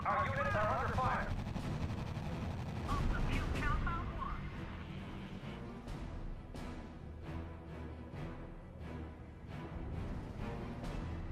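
Gunfire bursts and explosions from the strategy video game RUSE crackle in the background under a voice speaking over game music. Rapid shots repeat in irregular clusters through the latter half.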